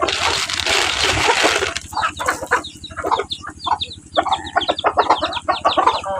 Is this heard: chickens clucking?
yes